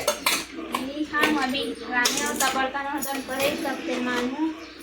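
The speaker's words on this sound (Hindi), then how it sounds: "बर्तन साफ करना है।" Dishes, steel utensils and cutlery clatter and clink continuously while being washed in a Chhattisgarh home kitchen, close and busy, with people, including a child, talking over the noise.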